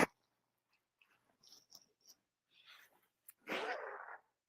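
A few soft breaths and sniffs, then one sharp, close sneeze bursts out near the end.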